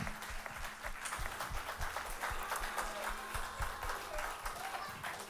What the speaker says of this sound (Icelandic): Santía Líf, gef henni gott klapp